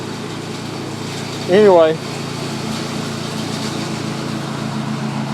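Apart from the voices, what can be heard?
lawn mower running nearby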